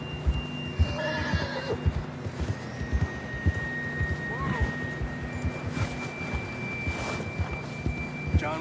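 A horse in the video game Red Dead Redemption 2 neighs and whinnies near the start, with steady clip-clopping hooves throughout, thin tonal game sounds, and brief voices in the mix.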